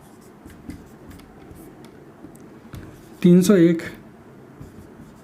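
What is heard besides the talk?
writing on a board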